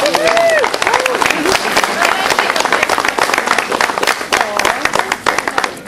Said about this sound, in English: So, everybody give Hamish a big round of applause.